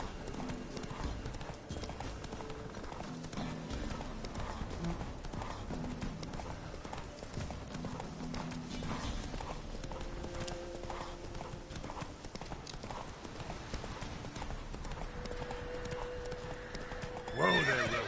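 Roach the horse in The Witcher 3 galloping with rapid, steady hoofbeats, with loud neighs breaking through, under a continuous game soundscape, ending in a sharper whinny.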